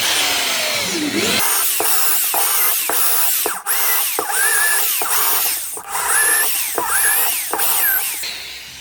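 A drill fitted with a hole saw (Dosenbohrer) bores into wood, giving a loud, close grinding whine broken by repeated short pauses and restarts as the cut deepens.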